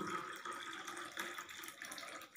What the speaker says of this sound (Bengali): গরম জলটা ঢেলে নিচ্ছি